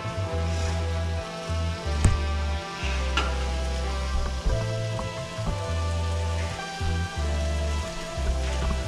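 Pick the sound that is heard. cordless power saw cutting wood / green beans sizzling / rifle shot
green beans sizzling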